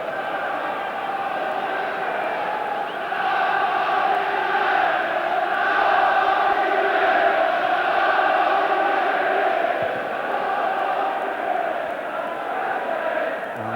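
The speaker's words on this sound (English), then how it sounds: "United crowd appealing for the corner." Manchester United supporters in a packed FA Cup stadium crowd against Nottingham Forest roar in a sustained, swelling wall of voices appealing for a corner, steady and fairly loud, then slowly easing back.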